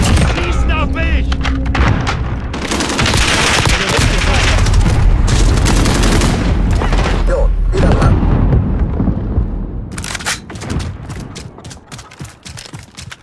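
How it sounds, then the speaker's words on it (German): A stun grenade bursts with a deep boom amid heavy gunfire in a video game battle, with loud sustained blasts and rattling shots that thin to scattered bangs while a voice calls out. "Werfe eine Betäubungsgranate! Schießen auf mich!"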